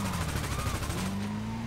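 Rapid automatic gunfire in GTA 5 rattles in a fast, even burst for about a second over a droning vehicle engine, then stops, leaving the engine hum.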